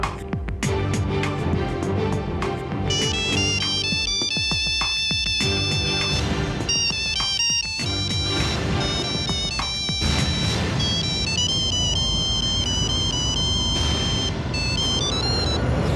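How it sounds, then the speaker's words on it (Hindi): A mobile phone ringtone plays continuously and loudly as a bright, busy electronic melody with sustained tonal notes over a dense backing, filling the whole stretch without pause or speech. "सुरेश अग्रवाल का मोबाइल भी बजा था, और जो आवाज मैंने सुनी थी वो कुछ ऐसी थी।"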